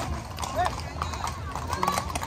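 Horse hooves clip-clop in an uneven rhythm amid crowd noise and voices at a livestock fair horseback parade in Culiacán, moderately near.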